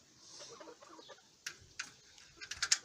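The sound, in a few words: chickens clucking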